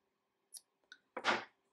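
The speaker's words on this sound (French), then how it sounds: "on va couper notre fil, on le laisse un peu long" Scissors cut crochet yarn up close: two faint light clicks of the blades closing, then one fuller, louder snip, all in a quiet room with no voices.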